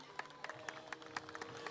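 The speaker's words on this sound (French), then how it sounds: "Sous vos applaudissements, mesdames et messieurs." An outdoor crowd applauds the women's podium at a stand-up paddle long-distance race in Saint-Raphaël, scattered claps sounding fairly faint and distant.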